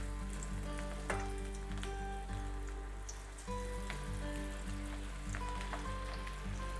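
Cabbage pakoda batter frying in oil, a quiet continuous sizzle with scattered light pops and crackles over a low steady hum, fairly faint and without speech.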